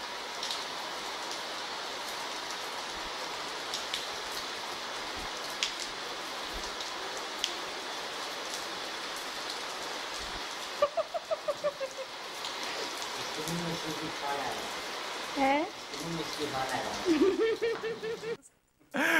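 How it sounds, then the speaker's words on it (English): Steady rain falling outdoors on a Saint Bernard dog, a soft continuous patter that stays fairly faint, with brief squeaky sounds and voices coming in near the end. "let's take a look at this quick funny pet clip of a Saint Bernard loving himself some rain."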